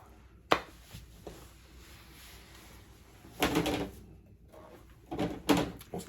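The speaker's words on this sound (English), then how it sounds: "knocked over my stack of slabs there" A stack of graded plastic card slabs gets knocked over, a sharp hard knock followed by clattering bursts as the cases tumble and slide against each other, close and loud with no talk.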